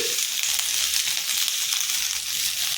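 Ivy gourd pieces fry in hot oil, making a loud, dense, even hiss that fills the whole stretch without pause.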